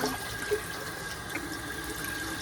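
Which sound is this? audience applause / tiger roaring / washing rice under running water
washing rice under running water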